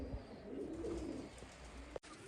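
Pigeons with chicks coo softly and close by, a low, rolling murmur over faint background noise, with a sharp click near the end.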